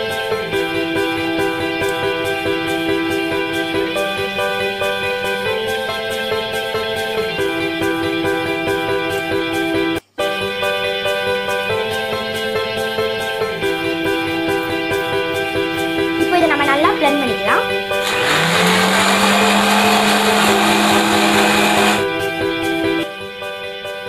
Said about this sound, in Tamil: இப்போ நம்ம எடுத்து வச்சிருந்த எல்லா பொருளையுமே ஆட் பண்ணி நல்லா பிளெண்ட் பண்ணிக்கலாம்.